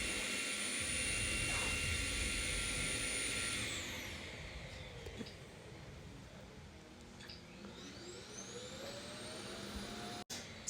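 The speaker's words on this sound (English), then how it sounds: "my vacuum is vacuuming right now" A vacuum cleaner drones loudly for a few seconds, then its motor whine drops away, leaving a quieter hum and faint clatter.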